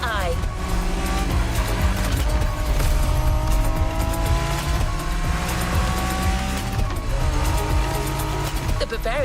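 A BMW Z4 M40i roadster engine in the racing game The Crew Motorfest drones steadily throughout, with rising and falling gear pulls and some tire squeal, loud and continuous under a talking voice.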